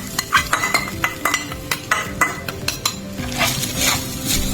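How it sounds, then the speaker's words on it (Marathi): Grated coconut sautéed with poppy seeds in a pan as filling for ukadiche modak, with a spoon scraping and clinking against the pan in repeated near strokes over a soft sizzle. "त्यानंतर खोबऱ्याचा किस किस टाकला"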